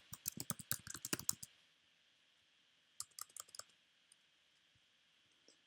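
Fingers typing on a computer keyboard, quiet close-up clicking in a quick burst of keystrokes, then a pause and a shorter second flurry of taps.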